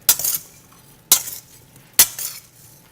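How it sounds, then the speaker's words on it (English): Salt-and-pepper-seasoned potatoes being mixed and tipped into a heating pan for a Spanish omelette, three sharp clattering hits spaced about a second apart, each trailing off into brief rattling. "we're going to mix this together, and we're going to put it in our pan that we have heating up here"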